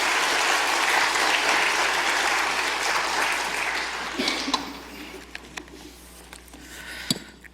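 A church congregation applauds at length as a pastor is welcomed to the front, the clapping steady and dense before thinning into scattered claps and fading near the end.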